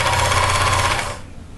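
A sewing machine stitches a skirt seam with a fast, even mechanical whir and rapid needle chatter, close and loud, before stopping and fading to quiet room noise.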